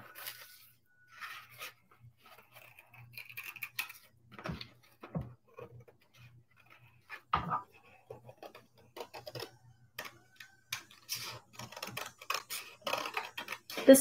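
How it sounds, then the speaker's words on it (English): Cardboard being cut by hand around a traced outline for a cardboard gaming wheel and phone holder, heard as quiet, irregular scraping snips and ticks spread through the stretch with brief pauses, close and faint, with no talk. "Now it's a lot easier to fold those flaps back and cut around"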